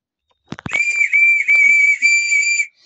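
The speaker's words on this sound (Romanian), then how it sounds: "are un fluier care e chiar anume pentru porumbei și asta și pentru vrăbii" A high, steady whistle from a pigeon and sparrow call whistle, held for about two seconds after a couple of short clicks, sharp and close, with a slight warble in pitch.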